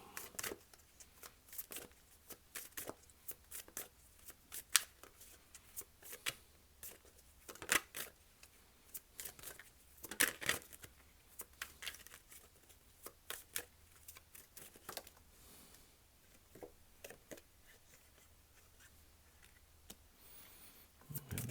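A Thoth tarot deck is shuffled by hand, with quiet irregular riffles, card slaps and rustles that come in bursts at close range over a long stretch without speech.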